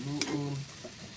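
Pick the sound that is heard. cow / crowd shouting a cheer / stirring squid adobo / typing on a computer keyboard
stirring squid adobo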